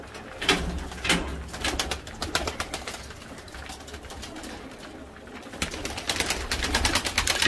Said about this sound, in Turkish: Şu Beşiktaş çok tatlı bir kuş.